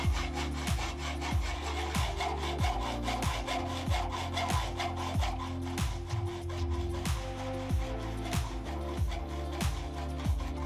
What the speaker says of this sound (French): il est préférable d'opter pour une scie à métaux manuels